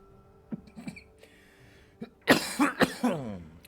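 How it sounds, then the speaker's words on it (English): Several harsh, close coughs burst out in quick succession near the end, after a few quiet clicks and small noises. "Coughing like a bitch."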